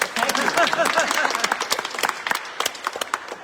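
Audience applause at a heritage talk in Hull Minster, a dense round of clapping that thins out into scattered individual claps, with some voices mixed in.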